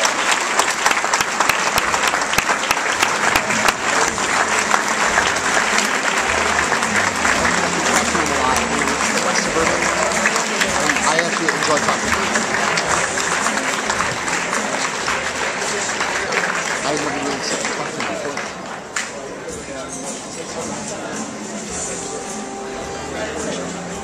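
An audience at a DECA lifetime achievement award presentation applauds retiring Mr. Hurst and his wife, with sustained, dense clapping throughout that tapers slightly near the end.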